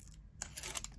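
Card craft piece peeled away from a stamping project, giving a short dry tearing rasp with crinkly bursts over a faint background hum, close and moderately quiet, no talk.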